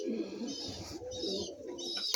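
Soft, low cooing from a red Egyptian Swift pigeon hen, wet from rain, a few gentle murmuring notes close by, with a brief sharp click near the end.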